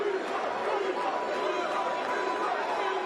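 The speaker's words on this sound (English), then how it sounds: "This crowd is electric." Dense crowd murmur and chatter fill an arena before a boxing bout, a steady close babble of many voices without distinct cheers.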